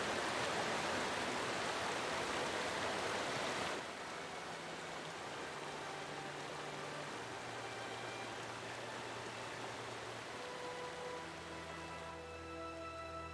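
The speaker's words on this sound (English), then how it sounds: "It's raining out there." Steady rain falls in the fantasy video game Pillars of Eternity, a constant hiss that drops slightly in level partway through, with faint tonal game ambience underneath and no voices.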